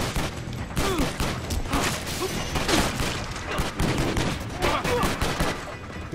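Rapid bursts of gunfire in the action game Stranglehold, dense and fairly loud, with overlapping shots, low booms and impacts running throughout.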